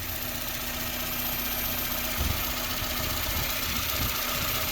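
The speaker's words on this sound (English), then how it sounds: "But seems to be idling so much better." A car engine idles smoothly and steadily, close and fairly loud, with a constant hum and a faint ticking rhythm, alone without voices.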